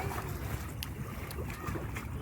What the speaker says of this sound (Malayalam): അത് ഇവിടെ മറ്റേ നമ്മുടെ ബോട്ട് ഇവിടെ അടുത്തോണ്ടിരിക്കുകയാണേ.